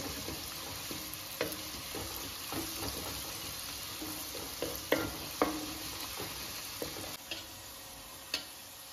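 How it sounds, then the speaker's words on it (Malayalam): Oil sizzles steadily in a pan over a full flame as ingredients fry to golden for methi chicken biryani, with scattered clicks and taps of stirring over a constant hiss. "അതുവരേക്ക് നമുക്ക് ഫുൾ ഫ്ലെയിമിൽ വെച്ച് തന്നെ ഫ്രൈ ചെയ്തിട്ടെടുക്കാം"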